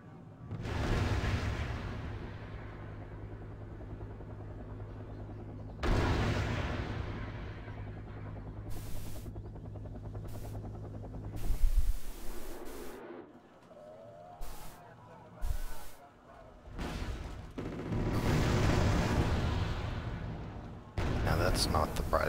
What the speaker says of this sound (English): artillery coming in now